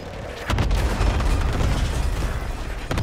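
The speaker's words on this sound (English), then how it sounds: "Enemy precision airstrike." An enemy precision airstrike lands in the Warzone video game, heavy booming blasts rolling together into a loud, sustained rumble with sharp cracks at the start and end.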